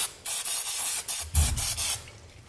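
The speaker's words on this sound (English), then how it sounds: "grab some brake parts cleaner and just spray everything down" Brake parts cleaner hisses from an aerosol can onto Dexter trailer axle parts with electric brakes, loud close bursts of spray, about five in quick succession, followed by a fading tail.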